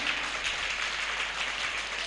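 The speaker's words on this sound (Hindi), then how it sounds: "जोरदार तालियां बजाएं" An audience at a Jain religious sermon gathering claps loudly and continuously, a dense, even wash of applause with no pauses.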